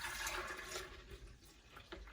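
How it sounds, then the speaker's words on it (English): Milk pours into a mixing bowl in a continuous soft liquid rush with a bubbling splash, heard close and fairly quiet for a couple of seconds. "we're going to put in 2 3/4 cups of milk"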